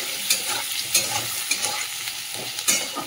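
Potato and eggplant being stirred in hot oil with salt and turmeric: close, continuous sizzling broken by repeated scraping stirs of a spoon against the pan, roughly every half second.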